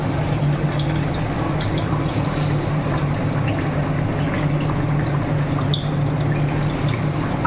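Rinse water from a blender jar that held ground mustard and chili is poured into a pan of fish roe, giving a loud, continuous, even rush of liquid lasting the whole span.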